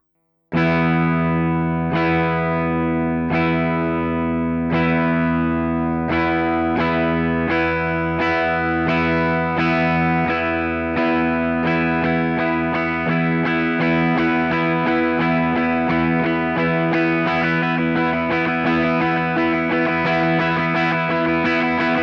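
Distorted electric guitar sounding sustained notes at a steady, slow pace, each ringing on through the next, with effects coloring the tone. No voices.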